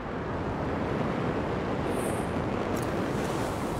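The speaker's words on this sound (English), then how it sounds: "waterfall ahead if you want to cool your suit" A waterfall in the game Anthem, a continuous broadband rushing roar that holds steady throughout, with a brief high chirp partway through.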